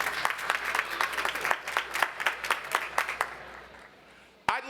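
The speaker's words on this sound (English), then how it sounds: "you deserve a great deal of applause" Steady applause from a university commencement crowd, many hands clapping in a dense rhythm that fades away, then cuts off abruptly near the end.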